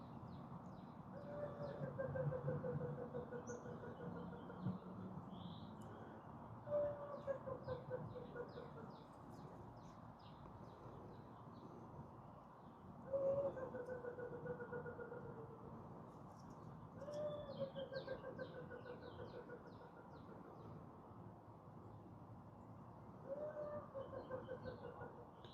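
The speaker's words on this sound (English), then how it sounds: "Oh, he's calling the chickens. Look at all those chickens." A man repeatedly calls to a flock of chickens, including baby chickens, at an abandoned New Orleans housing complex; faint, distant rhythmic calls and chirps recur every few seconds.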